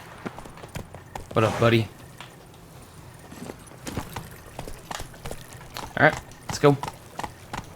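In The Witcher 3: Blood and Wine, the rider's horse trots up with hollow clip-clop hoofbeats in short bursts. Someone talks over the sound.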